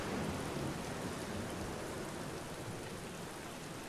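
Steady heavy rain with a low thunder rumble in The Black Mirror video game fills the whole stretch as a dense, continuous wash, loud and unbroken, with no voices.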